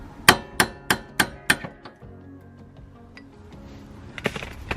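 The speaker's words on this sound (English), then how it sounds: "So we will need to give it a bit of a tap just to get it out." Hammer tapping a rear control arm loose on a Ford Focus RS during a Whiteline arm install: five sharp, evenly spaced metallic blows, loud and close, followed by one fainter tap and then quiet shuffling.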